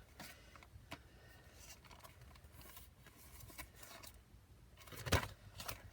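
Scissors snipping through a thick junk journal cover, a short sharp crunch of cutting standing out near the end after quieter rustling handling sounds.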